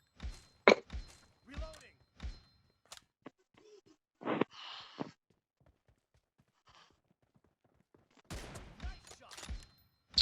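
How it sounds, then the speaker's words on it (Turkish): Sharp bursts of gunfire in a shooter video game crack out in short clusters at the start and again at the end, with someone talking in between. "Sıkıyorum ölmüyorsun ya."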